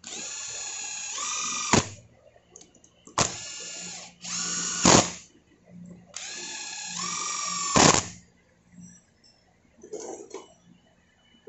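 A T-handle tool ratchets engine bolts tight on a Yamaha YZF-R25/R3 during an overhaul, three long bursts of rapid clicking, each ending in a sharp snap, then a fainter short burst, close up with no talk.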